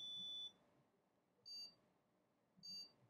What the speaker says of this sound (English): And a bunch of error beeps.